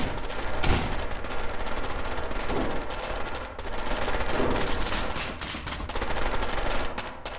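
Dense gunfire in the co-op shooter SCP: Pandemic, rapid continuous automatic bursts and sharp shots blending into a loud, sustained crackling fusillade with no talk.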